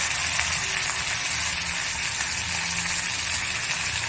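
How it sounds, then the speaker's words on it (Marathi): Chopped onion sizzles in hot oil in a pan with ginger-garlic paste, mustard seeds and chillies, a steady close crackling hiss that runs on without pause. "कांदा टाकून थोडा आपण हा कांदा लाल होईपर्यंत याला जरा भाजून घेऊया"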